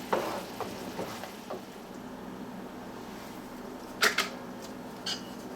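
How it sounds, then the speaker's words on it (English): Shallots sauté in a pan for a pork tenderloin dish with a soft, steady sizzle, and close clinks and scrapes of stirring come at the start and again toward the end. "I'm just going to let this saute for just a couple of minutes before I add the cream so those shallots have some time to soften up"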